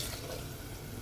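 Water is poured into a jug in a home kitchen during cooking, a steady, close, splashing flow that lasts about a second and then stops abruptly.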